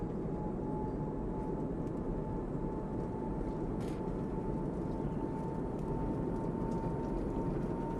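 The engines of an Airbus A220 airliner in Microsoft Flight Simulator 2024 hold a steady, even roar at takeoff power over a faint, thin tone, with no other sound in the cockpit.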